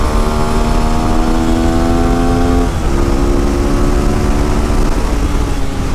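An old Yamaha WR motorcycle engine runs loud and close, its steady buzzing drone dipping briefly partway through and then climbing again as it revs.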